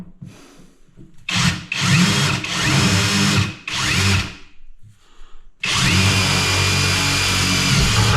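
Bursts of a power drill driving screws into a heavy vanity top, several loud whirring runs with short pauses between them, ending in one long sustained drive.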